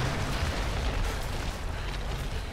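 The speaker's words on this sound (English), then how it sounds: "Another huge explosion that's gonna make this whole cave just shatter." A cave explosion in the Tomb Raider video game rumbles as a dense, sustained roar of crumbling debris, steady and fairly quiet with no talking.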